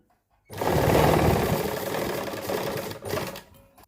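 A sewing machine runs close by, stitching a double seam on a fabric waistband in a steady, rapid mechanical whir for about three seconds before slowing and stopping.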